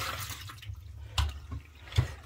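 Cloudy rinse water drains off millet being washed for porridge, a soft watery trickle with a couple of brief splashy pours, close and fairly quiet.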